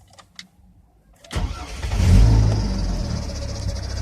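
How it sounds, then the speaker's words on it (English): A GMC Envoy with a bad fan clutch and an overheating problem starts up: a brief quiet, then the engine cranks and catches with a sudden rise, swelling into a loud, steady idle that runs to the end. "I'm going to go ahead and start the vehicle up"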